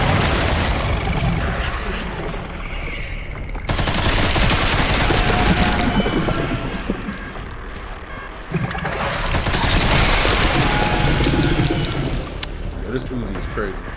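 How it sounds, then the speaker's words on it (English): Rapid Uzi gunfire in the video game Resident Evil 9: Requiem, dense continuous automatic bursts filling the whole stretch with brief dips, loud and close, with a voice talking over it. "This Uzi is crazy."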